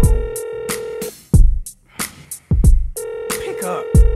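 Dialing a number on an old telephone, with a series of sharp tone bursts and clicks separated by pauses, plus steady held tones, followed by a voice starting to speak.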